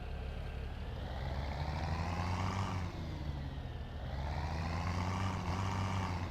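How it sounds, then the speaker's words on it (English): Road traffic vehicles in the Farming Simulator 17 video game, a steady loud engine drone that swells and fades as vehicles pass close by, with no talking. "Oh, traffic."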